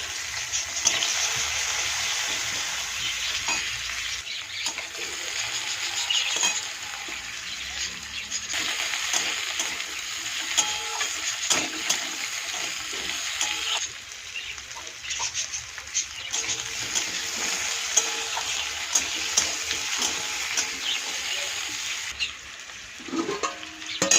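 Potatoes and onions fry in a pan with a steady, soft sizzle throughout, with occasional stirring scrapes and a slight lull midway.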